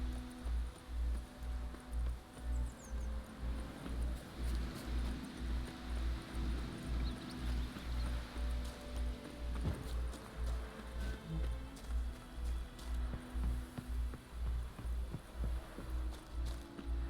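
Roach, Geralt's horse in the video game The Witcher 3, gallops at a steady pace: a regular, thudding rhythm of hoofbeats repeats throughout, fairly quiet, over faint ambient rustle.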